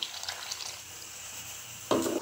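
Water is poured into a pot of vegetables for hotel-style white kuruma, a quiet kitchen hush broken near the end by a short, close splashing pour.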